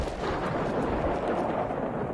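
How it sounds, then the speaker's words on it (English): A flashbang grenade goes off in the DayZ video game, a dense, sustained roar of blast energy that stays loud and even across the full stretch, with no clean gaps or separate pops. "Flashbang."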